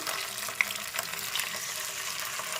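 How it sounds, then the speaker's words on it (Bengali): Ginger and green chilli paste, loosened with a little water, fries in a pan for cauliflower rezala. A steady close sizzle runs throughout, with faint stirring scrapes. "এখন দিয়ে দিচ্ছি আদা আর কাঁচা লঙ্কার পেস্ট মধ্যে সামান্য জল মিশিয়ে নেব নিয়ে নাড়াচাড়া করে নিতে হবে"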